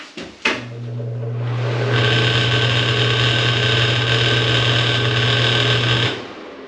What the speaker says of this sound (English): Here's the exhaust fan that I'm replacing.